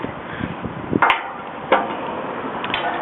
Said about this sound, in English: when I bring my hammer out here